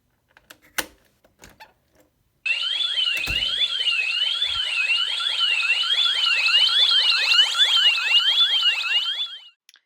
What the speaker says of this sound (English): right now we're going to try to trigger this alarm